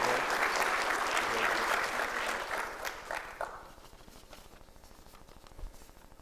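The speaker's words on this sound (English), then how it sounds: "Give another round of applause for our 2022 Who's Who" University audience at a 2021-2022 Who's Who and student organization awards ceremony claps loudly, a dense burst of applause that thins into scattered individual claps and then fades to quiet with a final thump.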